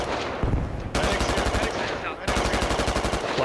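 Sustained automatic gunfire in a Squad video game firefight, dense rapid bursts with a brief pause before two long volleys crackle on, loud and close throughout with no talking.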